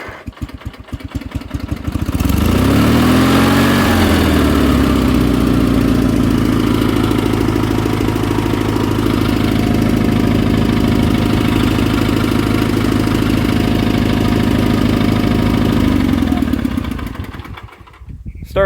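A restored 1976 Sears SS18 garden tractor's Onan engine cranks and catches, then runs smoothly at a steady, loud idle for about fifteen seconds before shutting off.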